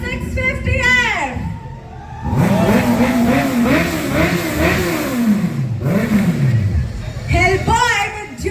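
A Honda CBR 650F superbike engine revs loudly at a superbike meet-up, rising and falling in pitch through several throttle blips, with other engine noise and voices around it.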